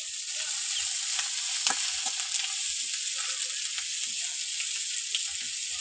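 Ginger paste hitting hot oil in a pan of small field-crab curry, a steady bright sizzle with a few soft stirring knocks, fairly quiet and uninterrupted.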